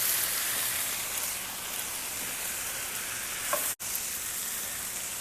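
Ground beef picadillo, seasoned with salt and pepper, sizzles steadily in a pan, an even crackling hiss that stays close and moderately quiet, with a brief stir partway through and no voices.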